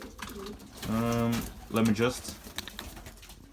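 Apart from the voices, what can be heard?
racing pigeons cooing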